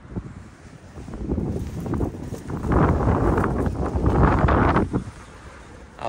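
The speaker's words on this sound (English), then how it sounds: "I apologize for that doggone wind." Gusty wind buffets a microphone at a junkyard by a 1958-59 Ford pickup, low rumbling roars that swell and fade, strongest in the middle before easing off.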